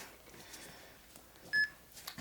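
A workout interval timer gives a single short, clear electronic beep near the end of a quiet room recording, with faint movement sounds around it.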